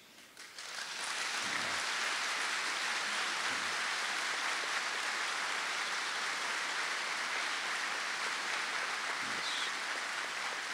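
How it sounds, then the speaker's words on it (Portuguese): Steady, dense applause from an audience at a lecture on ethics in human, political and professional relations, sustained for about ten seconds at moderate distance with no voices over it. "Que bom, né, ver Jesus Cristo aplaudido"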